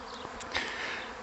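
A honey bee swarm hangs in the air outdoors, a dense, steady buzz of many bees filling the whole moment with a brief louder pass near the middle.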